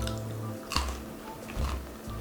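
Crunchy, overly crisp crust of a homemade apple quark cake (Apfelkuchen mit Quark) being chewed up close, with a few crackling bites in an otherwise quiet setting and no talking.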